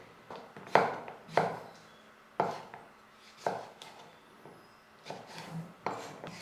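A knife chops through raw green mango on a cutting board in slow, separate strokes, about eight crisp thuds spaced roughly a second apart, each with a short scraping tail, close and fairly quiet.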